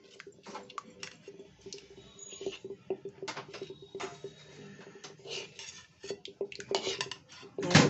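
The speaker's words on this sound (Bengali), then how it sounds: "খুব ভালো করে এটা দিয়ে একবারে খুব ভালো করে মিশিয়ে নেব মোলায়েম করে" Sweet curd mixture stirred smoothly in a bowl, a spoon scraping and tapping against the sides in a steady, close, fairly quiet rhythm with soft wet squishes and a louder clatter near the end.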